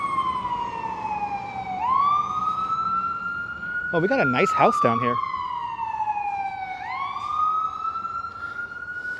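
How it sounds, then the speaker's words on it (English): A wailing emergency siren sweeps up and down loudly throughout, passing close on Bay Parkway in Bensonhurst, Brooklyn, at night, with a voice talking briefly in the middle. "Wow, a lot of sirens on Bay Parkway tonight."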